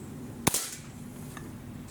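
A single sharp air pistol shot from an SS2, a Feinwerkbau 65 clone, fired at a paper target: one crisp close crack followed by a short metallic ring, then quiet.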